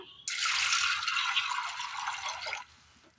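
Water pours steadily into a pot of soaked green gram on the stove, a bright continuous splashing rush lasting a couple of seconds before it cuts off, with no talking.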